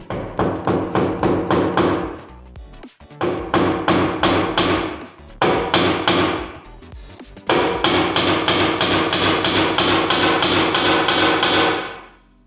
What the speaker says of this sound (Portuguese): Aí você prega até mais ou menos esse tanto, só sobrando um pouquinho da cabeça para fora, cabeça do prego